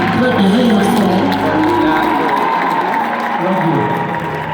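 Congregation clapping and cheering in a Baptist church service, a dense sustained wash of applause and crowd noise with music underneath and voices calling out.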